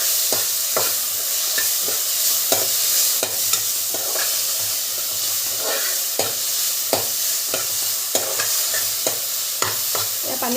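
Egg curry masala fried and stirred in a pan: a constant sizzle broken by repeated sharp scrapes and taps of the spoon against the pan at a steady, uneven rhythm, close and clear with no voices.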